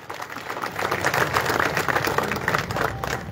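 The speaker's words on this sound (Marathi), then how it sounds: "सगळ्यांनी जरा जोरदार टाळ्या वाजवा" A crowd applauding at an outdoor political campaign rally, a dense wash of many hands clapping, moderately loud and sustained, with faint crowd murmur.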